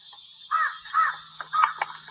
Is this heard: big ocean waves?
no